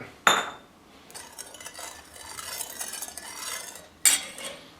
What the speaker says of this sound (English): Stir that up a bit